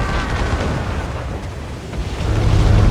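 Ship cannon fire in the naval battle game Assassin's Creed Rogue: a heavy, rumbling boom that swells and rolls on, with deep low-end thunder building toward the end.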